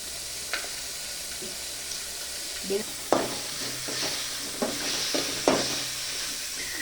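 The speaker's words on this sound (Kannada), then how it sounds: "ಈಗ ಟೊಮೊಟೊ ಹುರ್ಕೊಳ್ತಾ ಇದ್ದೀನಿ" Tomatoes frying in a pan, a soft steady sizzle with scattered spoon scrapes and clinks coming in short bursts, close and moderately quiet.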